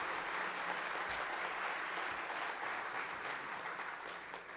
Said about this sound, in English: Let's give a round of applause for our Dora Maxwell winners.